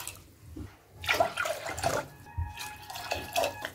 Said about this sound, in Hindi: अब इसमें डालेंगे 3 कप पानी।